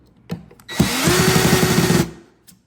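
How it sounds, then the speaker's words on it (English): A power drill drives a screw into a nail salon desk during assembly: a couple of light taps, then one loud, close whir of about a second and a half that stops abruptly, with no talking. "You're just matching up with the holes and screwing in."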